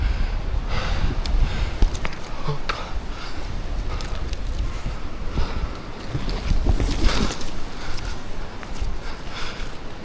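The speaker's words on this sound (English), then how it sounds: "it's windy up here" Wind buffets a climber high up in a forest tree among hanging vines, a steady loud roar of gusts rushing across the microphone for the whole stretch, with occasional faint rustles and no talking.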